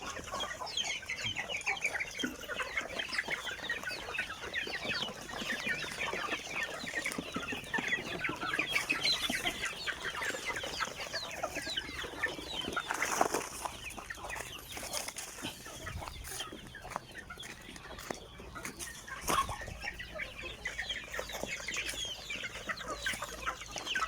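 Backyard free-range chickens cluck around their coop in a garden on a broad farm plot at evening, with steady overlapping clucks and calls going on throughout, moderately close.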